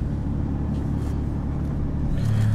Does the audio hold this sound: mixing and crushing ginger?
no